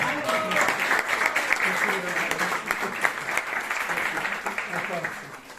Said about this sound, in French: Donc applaudissons encore.